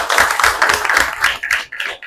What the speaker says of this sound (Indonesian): Nah, tepuk semangat dulu.